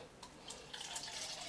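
Cold tap water running from a faucet into a container, a steady quiet splash that grows fuller and brighter as the stream settles, close by with no talking.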